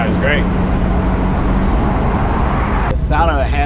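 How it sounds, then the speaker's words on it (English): A 1970s Plymouth Cuda with a 426 Hemi engine drives along, a loud, continuous low engine roar heard from inside the car, with brief voices and a faint tone at the start and end. "The sound of a Hemi is just amazing."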